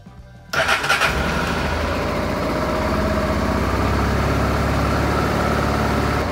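A carbureted Honda Transalp motorcycle running on E85 ethanol cranks briefly and fires up, then settles into a steady, loud, close idle.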